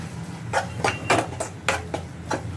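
A spoon clinks and scrapes against a pan while red chili powder is mixed into pav bhaji, Mumbai street style, in about seven sharp, irregular knocks over a low kitchen background.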